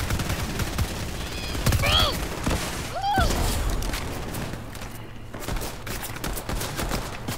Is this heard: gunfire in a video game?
yes